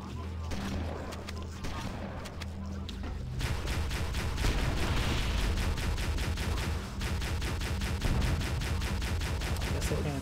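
Rapid cannon fire from a mounted turret in Halo CE, a fast stream of loud, evenly spaced blasts that thickens after a few seconds into continuous pounding, with a voice talking over it.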